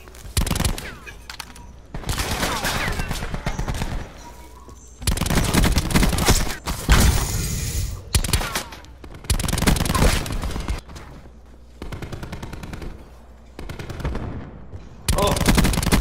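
Automatic gunfire rattles in long, rapid bursts in Call of Duty Black Ops 4, loud and close, broken by short pauses, with voices audible between some of the bursts.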